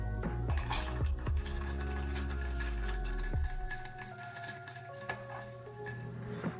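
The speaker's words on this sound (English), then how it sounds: "we're also going to add ice. And we're going to give it a little stir." Ice clinks against a glass as a mocktail is stirred, a steady run of close, light rattling and ticking with no talk.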